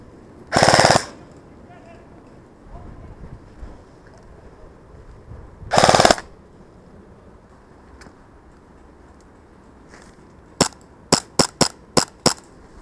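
Airsoft guns fire outdoors at a skirmish site: two loud sustained bursts, then a quick run of six sharp single cracks near the end, close by with quieter rustling and movement between them.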